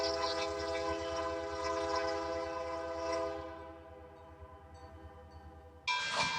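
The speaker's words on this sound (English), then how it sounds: "finally our circus train pulls into Harrisburg, Pennsylvania, its next stop" An O gauge model circus train eases into a yard, its horn holding a long, steady harmonic tone over a low rumble, then dropping away before a short, bright burst at the end.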